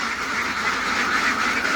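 Ducks on a farm keep up a dense, continuous chorus of quacking, loud and close, with many birds calling over one another without pause.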